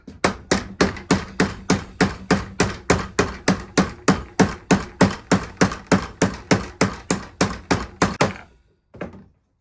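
Rapid, steady hammer blows on a 140-year-old metal saw blade, knocking out a kink, about three per second, loud and close, stopping abruptly, followed by one last fainter knock.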